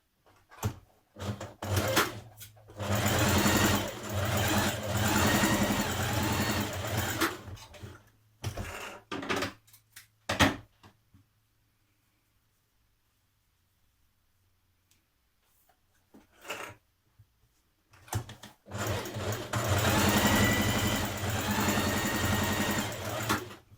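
Sewing machine stay stitching along the back neck edge of a Simplicity 8602 top, running in several loud close bursts of varying length with short pauses and a long quiet gap midway.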